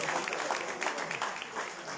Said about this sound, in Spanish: Maricela Abel y Pablo Sánchez, con el aplauso fuerte.